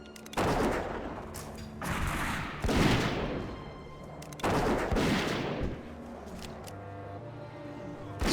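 Gunfire from the player's gun in World of Warcraft, fought against Scorpids and Wastewander Outriders: repeated loud bursts of shots, each decaying before the next, with some voice faint underneath.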